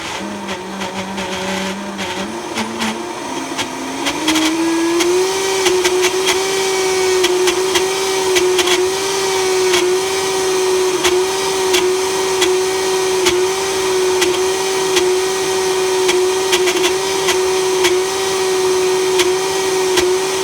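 A blending bowl blender whirring steadily while grinding peanuts into peanut butter, its motor tone climbing in pitch over the first few seconds, then holding a loud, even drone.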